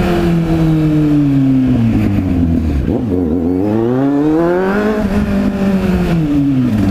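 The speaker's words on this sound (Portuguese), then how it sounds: "Bichinha, sai empinando no acelerador." A Kawasaki Z800 motorcycle accelerates through its gears while doing a wheelie, its loud engine pitch rising steadily, dropping at a shift, then climbing again, close and continuous with no talk.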